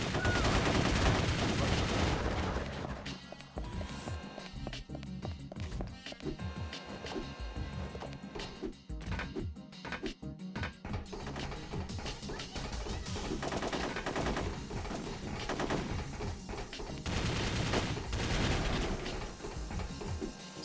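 Sustained gunfire and bursts from a Ghost in the Shell Stand Alone Complex video game fill the whole stretch, loud and dense with repeated shots and machine-gun rattles, over a thick layer of game effects and music.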